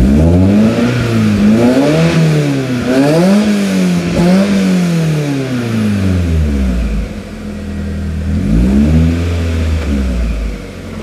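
A car engine revs repeatedly, fitted with a GM 3 bar MAP sensor piggybacked onto an Adaptronic ECU. It rises and falls in pitch in a series of up-and-down sweeps, loud and close, with no talk.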